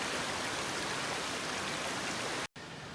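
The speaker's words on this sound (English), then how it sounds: "Hear that babbling water there as it rushes by?" Babbling water rushing through the reflecting pool below Amicalola Falls, a steady, dense, close wash of flowing water that cuts off abruptly near the end.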